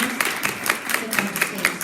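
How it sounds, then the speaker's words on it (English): An audience at a women's leadership event applauds after a panel discussion, with steady, evenly spaced claps ringing out from a small group nearby. "giving us a big round of applause for all of us"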